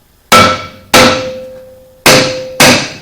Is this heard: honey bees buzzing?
no